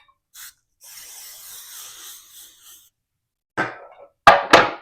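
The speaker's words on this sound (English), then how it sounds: "I'm going to spray it because you don't want the dough to stick" Cooking spray hisses onto a glass baking pan for peach cobbler: one long soft spray of about two seconds, then a few sharper short bursts close by, with quiet gaps between.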